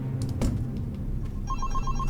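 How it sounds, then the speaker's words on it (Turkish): A telephone rings with repeated short electronic trills inside a SpongeBob-themed prison horror video game, following a few thumps and clatters, with low game ambience underneath. "Benim telefon çalıyor bir dakika."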